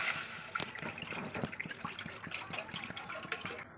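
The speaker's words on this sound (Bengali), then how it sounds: "তো কড়ার মধ্যে এবার জল দিয়ে দেবো।" Water poured from a tap into a wok to boil chow mein noodles gives a steady splashing gush with small bubbling and clinking, close by and moderately loud throughout.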